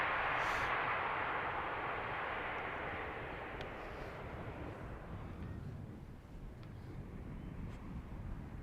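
Airbus Neo airliner rolling down the runway at Amsterdam Schiphol, a distant broad jet roar fading gradually as the aircraft slows, with no voices.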